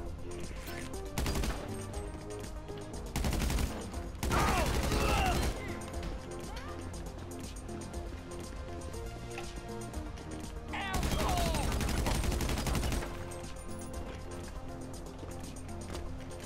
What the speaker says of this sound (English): Getting shot.